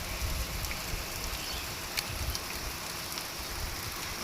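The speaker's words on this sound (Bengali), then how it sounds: "কি পরিমাণ বৃষ্টি" Heavy rain pours down in a dense, constant hiss, with low rumbling and occasional louder drops close by.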